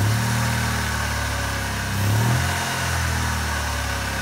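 A Saturn car engine runs steadily with two cylinders deactivated and their fuel injectors disconnected, giving a close, continuous low drone that swells briefly midway and then settles back to an even hum.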